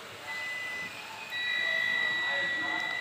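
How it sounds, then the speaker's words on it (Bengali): A multimeter on continuity test beeps with a thin, steady electronic tone while a Toyota Premio 2016 steering angle sensor circuit is checked. The beep starts midway and holds over faint workshop background, and a voice talks quietly underneath. "মাল্টিমিটার বিপ দিতেছে"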